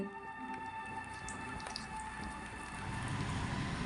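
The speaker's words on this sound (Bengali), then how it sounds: "জল দিয়ে আবার একটু এরকমভাবে ফেটিয়ে নিচ্ছি" Flour and rice flour batter is beaten with water by hand, producing a steady, close wet squelching and slapping that thickens toward the end, with no talking.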